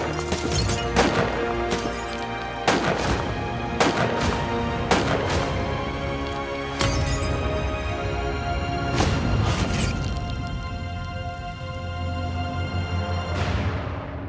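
Repeated loud, sharp gunshots crack through a mob hit reenactment, scattered irregularly as about a dozen booming reports with ringing, echoing tails, the last ones fading into a sustained reverberant wash. No talking is heard.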